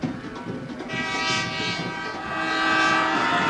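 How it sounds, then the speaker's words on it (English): A truck air horn at a high school football championship game blares in a long, sustained honk that swells slightly louder toward the end. "There is the truck air horn."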